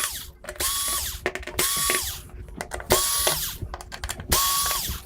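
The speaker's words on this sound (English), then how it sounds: "Now all we got to do is get the screws out and the board should be free." A power screwdriver backs screws out of a circuit board inside a Samsung UN46D6000SF television, whirring in four short, loud bursts about a second apart, with brief quiet gaps between them and no talking.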